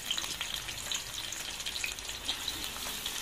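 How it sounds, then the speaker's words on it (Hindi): Onions frying in hot oil in a kadhai, a dense crackling sizzle throughout with faint stirring, no speech. "प्याज को फ्राई करेंगे।"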